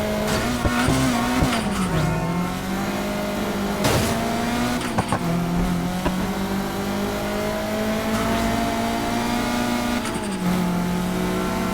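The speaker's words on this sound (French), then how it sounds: "si tu veux drifter, écrase la pédale des gaz au prochain virage" A car in Need for Speed Heat drifts with a loud, sustained engine drone and wavering tire squeal, steady and close throughout with a few sharp skid accents.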